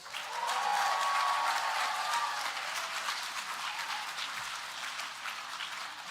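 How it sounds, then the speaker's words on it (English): Applause from an audience at a podcast awards ceremony as a bronze winner is announced, a steady wash of clapping that swells and then holds evenly, fairly distant and soft. "let's give it a round of applause for, with bronze, Poppy Hilstead has entered the chat"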